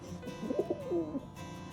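A flightless rescue pigeon coos in a soft, rolling series of low throaty notes, close and fairly quiet against a faint steady background hum, with no talking.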